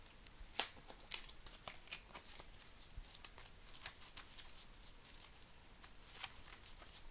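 Flesh and Blood trading cards being shuffled at a game table, a quiet, steady run of soft riffling clicks and flutters with sharper snaps near the start, close and faint without talk.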